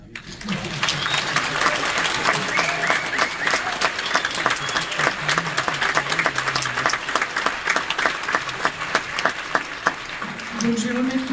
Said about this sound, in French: j'avais le privilège de monter la première sur scène et donc de faire applaudir Cyril